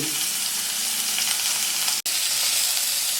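Onion, tomato, capsicum, green chilli and cumin sauté in a pan for masala macaroni, with a loud, continuous close sizzle and hiss that cuts out for a split second midway.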